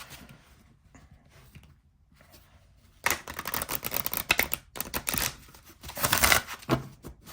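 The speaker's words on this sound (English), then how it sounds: "Just so you can see how it shuffles." A short quiet stretch gives way to rapid, crisp riffling and slapping of an oracle card deck being shuffled close up, in uneven bursts.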